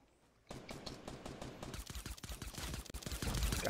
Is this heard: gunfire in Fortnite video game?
yes